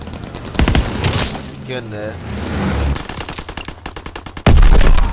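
Gunfire in Call of Duty: World War 2 team deathmatch, loud rapid bursts of automatic shots with a short sharp volley near the end, as someone speaks briefly.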